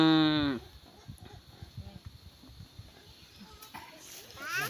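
A water buffalo being treated for worms lets out a low mooing call at the start and again near the end, with scattered rustling and handling noises between.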